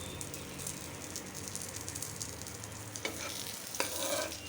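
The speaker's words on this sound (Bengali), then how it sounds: "অল্প আঁচে আস্তে আস্তে এটা ভাজতে হয়" Aloo paratha frying in oil in a frying pan over low heat, a continuous close sizzle and crackle with a couple of louder spits near the end, no talking.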